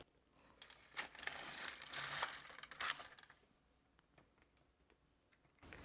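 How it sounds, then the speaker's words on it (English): An LK150 knitting machine carriage sliding across the needle bed to knit one row of nylon or cotton thread, a close rasping, clicking run of about two seconds, then quiet handling and a final click. "hold it with your hand and knit one row"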